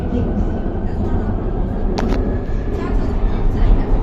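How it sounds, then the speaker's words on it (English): Metro train in Austria rolls along with a steady, loud rumble and rattle inside the car, one brief sharp squeal partway through. "We got on the metro and thankfully in the right direction."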